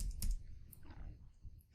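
Quick, close clicks of typing on a computer keyboard, a few keystrokes in an irregular short burst, fairly faint.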